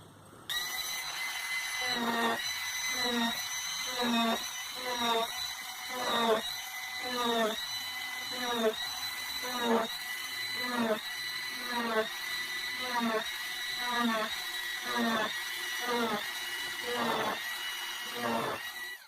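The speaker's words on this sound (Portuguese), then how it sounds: "fazer furos finos nessas marcações feitas para poder fazer a parte de fixação do disco no corpo do instrumento" An electric drill bores fine holes into the body of a gangirá instrument, whining in a rapid series of short bursts, close and loud.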